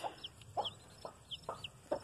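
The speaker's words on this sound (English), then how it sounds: "So, yay, little chickies." Chickens in a barn shared with goats, giving short, separate clucks spaced about half a second apart, close and moderately loud with quiet between calls.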